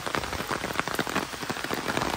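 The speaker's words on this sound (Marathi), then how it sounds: "आता मस्त पाऊस पडतो" Steady rain falls at a hill station, a dense, continuous patter of drops on surfaces filling the scene from start to finish with no voices.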